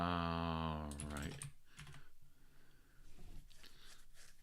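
Rapid keystrokes clatter on a computer keyboard that had seemed to stop working, irregular clicks in short bursts after a brief tonal sound at the start, fairly close but moderately quiet.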